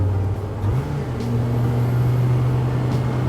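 A Rezvani Beast race car for the street drones loud and close while driving, with a steady low engine note that steps up once as it accelerates, and someone talks over it.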